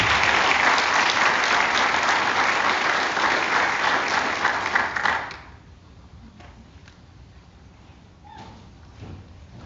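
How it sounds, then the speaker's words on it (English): Loud sustained applause from an audience at a high school awards night honouring a group of students, filling the first half then cutting off abruptly to a quiet room with a few faint thumps. "So a final applause for this group of students."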